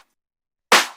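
A single super punchy clap layered with a snare for deep tech house, landing alone after near silence, bright and loud with a short decaying tail.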